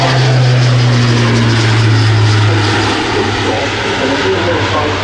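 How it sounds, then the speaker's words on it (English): An Airbus A400M military transport aircraft rolls for takeoff at an air show, its turboprop engines a loud, sustained, droning roar with a steady low hum throughout. "here's the A400M on the roll"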